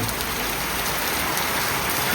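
Heavy rain pours down over a village, a dense, loud, unbroken hiss of drops striking surfaces throughout, with no voices.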